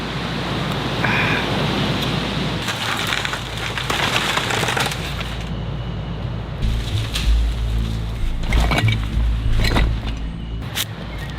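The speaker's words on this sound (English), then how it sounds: "protected from the rains and the high winds" Steady rain hiss in the Amazon rainforest, a dense unbroken wash of noise with a few louder patches and low rumbles.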